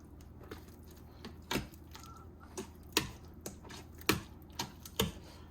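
Liquid is worked into a cornbread dressing, with soft irregular squishing and spoon taps against the bowl, quiet and close, arriving in scattered bursts about every half second to second.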